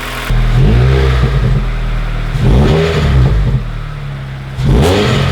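Rev bursts from a Mazda Miata fitted with a swapped-in 2.5 engine, three loud, close throttle blips rising and falling over a steady idle, with a slightly deeper tone.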